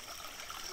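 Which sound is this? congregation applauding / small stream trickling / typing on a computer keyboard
small stream trickling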